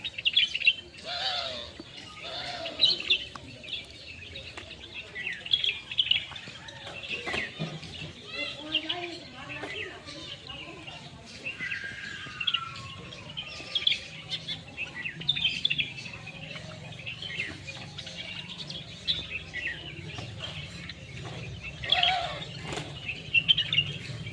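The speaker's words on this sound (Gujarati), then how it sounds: "દાણા નાખ્યા છે તો ચકલો ખાવા આવે છે જુઓ।" Sparrows chirp busily while pecking at a handful of scattered grain outdoors. Overlapping tweets and calls continue throughout, with occasional wing flutters.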